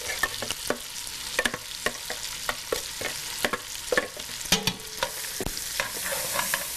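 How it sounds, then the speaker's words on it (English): Onions, carrots and celery sizzle in a hot pan while being stirred, with a bright continuous frying hiss broken by repeated scraping clacks of the spoon. "And we're going to stir that up really well."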